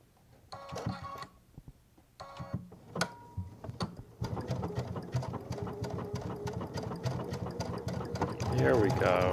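Baby Lock Solaris sewing machine stitching decorative work on fabric, running in short bursts and then in a steady rapid run with rhythmic mechanical clatter, close by and moderately loud.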